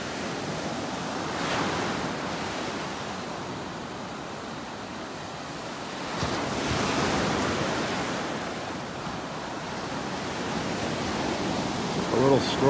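Gulf waves wash onto the beach at North Naples, Florida, a continuous broad surf roar with gentle swells and faint wind, close and without talk.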